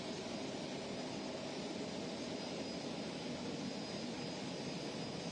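The Judge Next Generation, a turbine-powered modified pulling tractor, gives off a steady, far-off jet-like roar and whine that stays even throughout, with no talk over it.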